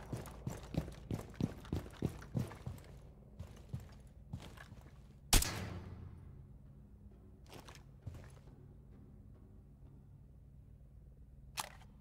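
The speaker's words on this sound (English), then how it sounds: "I keep hearing footsteps" Footsteps in Rainbow Six Siege, a rapid run of sharp steps at the start, then scattered single steps and one loud impact, heard clearly and fairly close.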